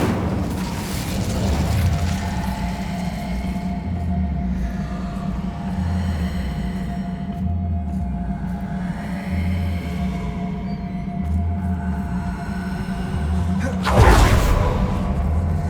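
Incendio fire spell in the Hogwarts Legacy video game, a rumbling whooshing burn with pulsing low roars that swell and fade, then a sharp loud burst near the end.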